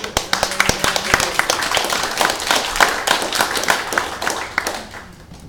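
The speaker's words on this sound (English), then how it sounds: "Clap for Michael." An audience claps steadily after a presentation, a dense patter of handclaps that gradually thins and fades toward the end.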